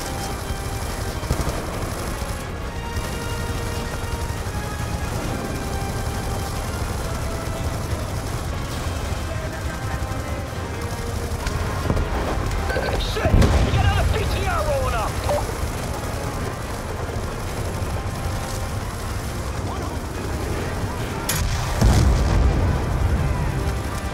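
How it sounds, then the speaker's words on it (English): Rapid gunfire from Call of Duty: Black Ops 2 on PC, aimed at enemies leaving a vehicle, rattles steadily for the whole stretch. Two heavier bursts and booms punch through near the middle and again near the end, with game voices talking over the shooting. "I'm not shooting the vehicle, I'm shooting the guys coming out of it"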